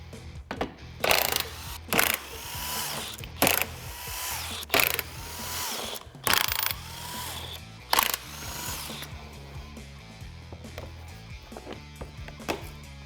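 A power tool unfastens the skid plate bolts beneath a 2021-2022 Ford Bronco, running in about six loud, close whirring bursts of a second or so each, separated by short pauses and followed by quieter clicks, with no talking.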